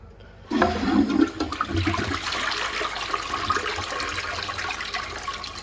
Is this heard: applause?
no